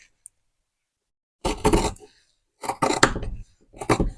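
Scissors cut through old shorts fabric in three close bursts of crisp snipping and crunching, separated by short silences, with no talk.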